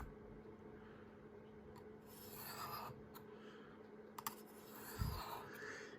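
A pocket knife blade is drawn in even strokes along a Sharpmaker sharpener. The strokes sound like soft, faint rasping swipes at intervals, close but very quiet.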